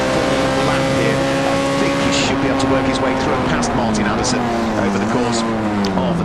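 Tin-top touring race cars at Donington Park during a night race, engines droning and shifting pitch steadily through the Roman chicane, loud and continuous under a commentator's talk.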